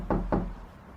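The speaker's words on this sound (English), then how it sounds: "went to the door of the well-cared-for English tutor, and knocked" Two firm knocks land on a wooden door in quick succession, close and dry, followed by a quiet pause with no voices, staged as a radio drama effect.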